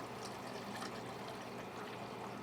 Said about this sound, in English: I'm gonna take my distilled water and I'm gonna pour some in there